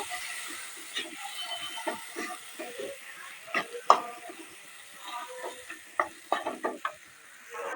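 Green peas are stirred in a pan of hot oil, with irregular scraping and clattering strokes over a soft background sizzle, close up and moderately loud.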